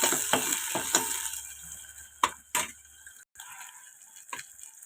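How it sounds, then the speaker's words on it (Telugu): Onions, green chillies and tempering seeds fry in oil in a pan for a tomato and amaranth curry, giving a steady close sizzle broken by a few sharp spatula scrapes and clinks. "ఇది వేయించుకుందాం ఆయిల్లో"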